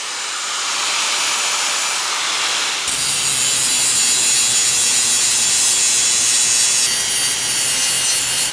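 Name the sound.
machine shaping a Japanese knife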